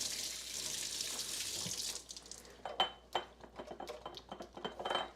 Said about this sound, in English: you could soak it, put it in some soapy water